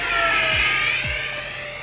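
An E-flite Airbus A320 Neo RC model airliner makes a high-speed pass with a loud, steady high-pitched electric whine that eases slightly as it goes by.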